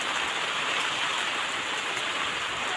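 Steady, dense rain falling continuously with a broad hiss close by, a heavy monsoon downpour in late August, with no talk.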